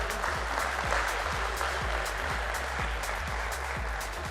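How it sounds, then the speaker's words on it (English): An audience applauds at the stock listing ceremony of DreamFolks Services Limited, with steady, rhythmic clapping from a moderate-sized crowd sounding somewhat distant throughout. "Once again, a round of applause for all of them."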